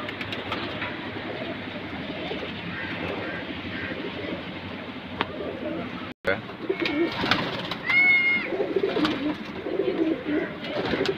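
Pigeons at a rooftop loft in Bhaktapur keep up a continuous murmur of cooing. Later comes a flurry of louder bird calls and wing flutters, with brief faint talk and background noise.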